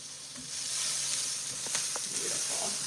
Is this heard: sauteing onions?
yes